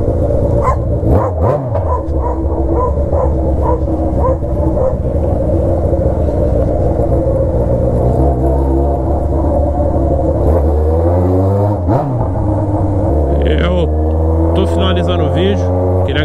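Yamaha XJ6 motorcycle with an open 4-inch exhaust, loud and close, its engine droning steadily and rising through several sharp revs, with a few short blips near the end.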